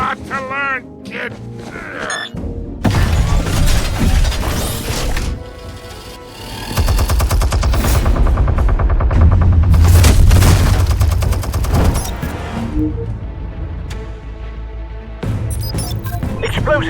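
Bursts of gunfire and heavy explosions from Batman: The Telltale Series video game, loud and dense crashes and booms rolling over several seconds with short quieter gaps between the volleys.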